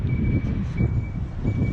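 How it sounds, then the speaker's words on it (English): Steady wind buffets the microphone, a low rumbling roar with gusty swells throughout. "So it's a bit windy now"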